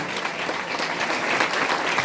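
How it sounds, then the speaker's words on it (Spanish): A church congregation claps loudly and continuously at a Sunday service, a dense, even roar of many hands with no pauses. "Un aplauso fuerte a aquel que vive y reina para siempre."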